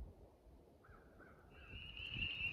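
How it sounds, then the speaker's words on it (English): Distant crows caw a few times over steady outdoor background noise, with a thin whistling tone rising toward the end. "I can hear the crows right now flying."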